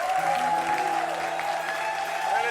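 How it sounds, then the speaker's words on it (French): An audience at a live concert applauds in a steady, dense wash of clapping that holds at an even level throughout, with a voice and music carrying along beneath it. "On applaudit bien fort encore une fois"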